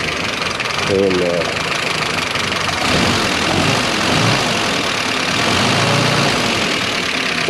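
The rebuilt engine of a 1955 Willys Jeep CJ5 idles loudly and steadily with a rough, knocking rumble; a brief spoken word is heard near the start.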